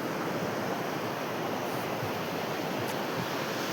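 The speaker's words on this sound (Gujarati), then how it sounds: "આ રહ્યો એક દરિયાનો નજારો." Sea waves washing onto the shore at sunrise, a steady, loud, unbroken roar of surf with no voices.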